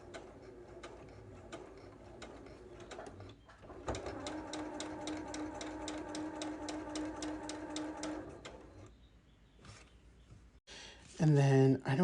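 A domestic sewing machine stitching a Lone Star quilt, a steady fast needle rattle running for several seconds then stopping, with quiet ticks and handling noises around it and a voice speaking near the end.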